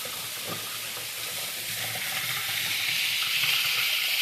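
Hawakhana waterfall in Mirsharai pours with a steady broadband rush, growing slightly louder toward the end, with no voices.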